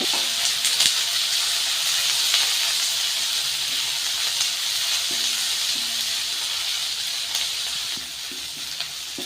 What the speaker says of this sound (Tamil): இப்போ எண்ணெய் சூடாயிருச்சு. கடுகும் சீரகமும் போட்டு தாளிச்சிக்கலாம்.